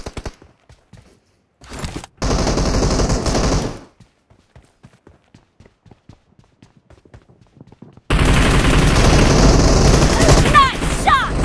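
Bursts of automatic gunfire in PUBG Mobile team deathmatch, a dense rapid fusillade in two long loud stretches separated by quieter scattered shots and footsteps.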